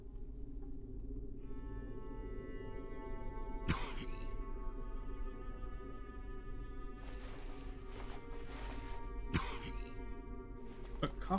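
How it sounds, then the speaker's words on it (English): Amid a quiet game soundtrack of sustained tones, a character in the video game Drova: Forsaken Kin coughs in two or three short, harsh bursts spaced several seconds apart. "Coughing up blood?"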